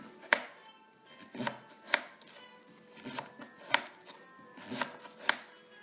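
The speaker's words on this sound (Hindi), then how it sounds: "हम अपना शलजम भी काट लेते हैं।" Turnip being chopped with a knife on a cutting board while making beetroot sabzi, giving six or so crisp, evenly spaced knife strikes that land close and clear, with no talking.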